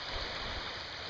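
A small waterfall stream at a wilderness campsite makes a steady, broad rush of falling water, continuous and fairly close, with no voices.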